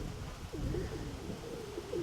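Soft, low pigeon cooing repeats over a steady outdoor hum, fairly distant and calm.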